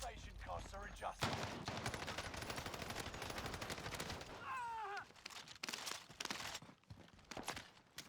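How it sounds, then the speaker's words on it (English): Rapid bursts of gunfire in Call of Duty: Modern Warfare, dense and continuous through most of the clip, layered with game sound effects and occasional voice-like tones, thinning out toward the end. "They're shooting me!"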